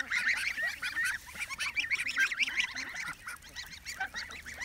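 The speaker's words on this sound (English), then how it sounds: "now the geese are coming over" A flock of geese honks repeatedly and overlapping nearby, a busy, uneven chorus of calls with no talking.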